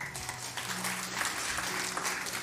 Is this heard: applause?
yes